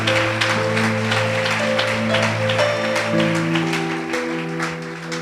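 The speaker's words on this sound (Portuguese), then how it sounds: "aplaude igual a crente." A church congregation claps together in a dense, sustained wash of applause over held keyboard chords, the clapping thinning slightly toward the end.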